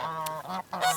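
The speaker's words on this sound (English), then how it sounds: "Then we got the noisy geese." Noisy farm geese honk loudly and close by, three or four harsh, nasal calls in quick succession with brief gaps between them.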